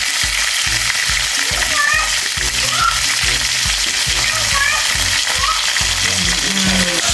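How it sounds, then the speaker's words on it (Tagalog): Hot cooking oil in a pan spits and splatters loudly as food fries for sinigang with prawns, mushrooms and kangkong, a dense close crackle with quick pops throughout. "Takot kasi talaga ako sa mantika na tumatalong."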